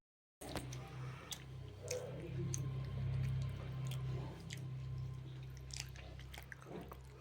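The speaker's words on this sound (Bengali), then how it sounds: "তো আমরা একটুখানি কেটে একটু খেয়ে দেখবো" Someone eats a slice of homemade or bakery cake up close, with soft, steady chewing and small squishy bites running through the clip at a low level, while no one talks.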